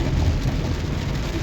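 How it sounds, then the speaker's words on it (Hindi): Heavy rain pouring down along King Abdulaziz Road near King Abdulaziz International Airport in Saudi Arabia, a dense steady hiss with a low rumble underneath. "बहुत बारिश हो रही ते आज बड़ा मौसम में बारिश में।"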